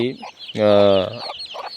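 A native country hen gives a short, loud cluck-like call, followed by a few softer clucks, close by with no talking.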